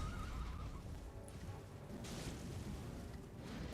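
A horse whinnies in the Elden Ring video game, a faint high neigh near the start heard over a steady low rumble of game noise and ambience, with no speech.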